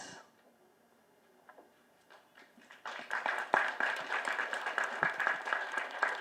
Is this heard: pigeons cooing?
no